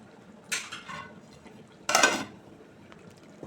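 A spoon scrapes and clinks twice in a pot as coconut and coriander powder are mixed into a country chicken curry, with two short bursts separated by quiet.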